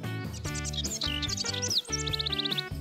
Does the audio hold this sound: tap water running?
no